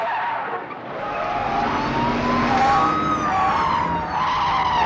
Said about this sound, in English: A frenetic car chase on the downtown strip